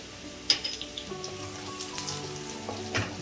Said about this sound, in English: I'm going to add the chopped garlic and just saute it for a few seconds, and also add asafoetida powder,